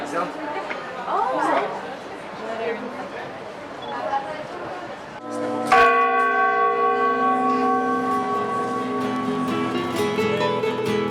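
Church bells ring at the Giralda bell tower of Seville Cathedral, starting with a sudden loud strike mid-clip and then sustaining a rich ringing hum, after a stretch of crowd chatter that continues beneath the bells.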